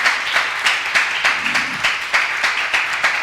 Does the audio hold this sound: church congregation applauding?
yes